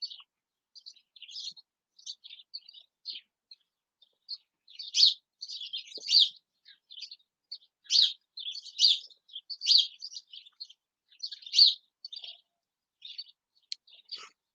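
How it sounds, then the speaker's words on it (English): Birds sing in a backyard at sunrise, bright chirps and short phrases coming in irregular bursts, moderately near against a quiet background, with no talking. "Can you guys hear those birds singing?"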